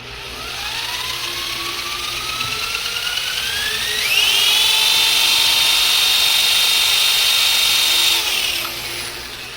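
A power drill whines as it spins up, its pitch climbing steadily before holding a loud, steady high tone and then cutting off.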